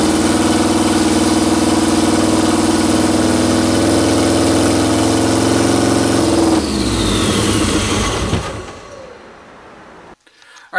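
A 1973 VW Super Beetle with a swapped Subaru engine idles with a steady, throbbing rumble, then sputters and winds down until it cuts off, leaving near silence.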